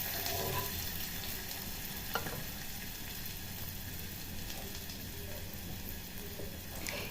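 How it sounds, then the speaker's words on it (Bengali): Sago khichdi stirred in hot oil with a spatula, a faint continuous sizzle with soft scraping and a small clink of the utensil. "আমি খুন্তির সাহায্যে একটু ভালো করে তেলের সাথে এটা মিশিয়ে দেব।"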